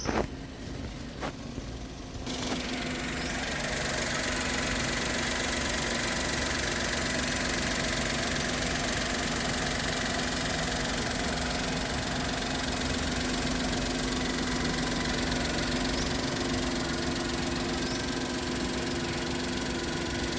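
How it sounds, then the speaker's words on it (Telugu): A Maruti Wagon R VXi AMT engine starts after a few brief clicks and then idles in a steady, even hum with a light mechanical rattle, close and continuous. "ఇంజన్ కూడా చూద్దాం. స్టార్ట్ చేసి వెళ్తున్నా"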